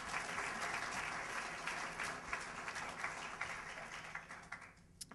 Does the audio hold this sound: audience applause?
yes